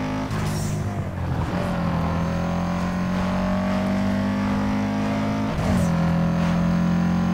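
A car engine in the racing video game Need for Speed Underground 2 hums steadily at cruising revs, with gear shifts and pitch changes, close and prominent.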